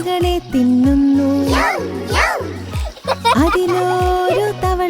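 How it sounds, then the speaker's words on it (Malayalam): A small splash marks a baby frog leaping into water, set within a children's nursery rhyme with a bouncing rhythmic backing and a sung voice over it. "അതിലൊരു തവളക്കുഞ്ഞൻ ചാടി മറഞ്ഞു വെള്ളത്തിൽ"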